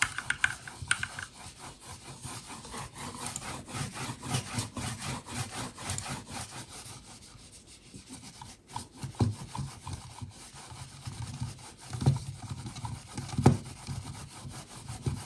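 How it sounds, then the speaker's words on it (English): A computer mouse glides back and forth across a fabric gaming desk pad, giving a continuous soft rubbing swish that rises and falls in irregular strokes, with no talk. "let's do a little bit of sound test of mouse gliding"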